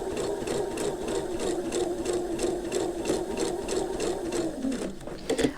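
Sewing machine stitching curved orange peel quilt blocks, a fast steady rhythmic needle clatter running close and continuous, slowing to a stop at the end.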